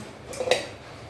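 A metal cooking pot clanks once or twice as it is set down on a lit gas stove, a short bright knock against quiet background.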